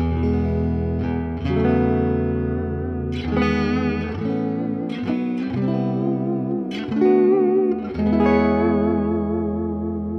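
Electric guitar played through the vibrato channel of a Fender Deluxe Reverb Tone Master digital amp at full power, with reverb and tremolo; sustained chords and picked notes ring out with a lush wash of reverb, steady and loud throughout.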